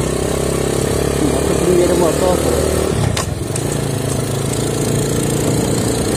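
A small motorcycle engine runs steadily and loudly up close through the whole stretch, a dense low rumble with a slight dip midway, while someone speaks Portuguese over it.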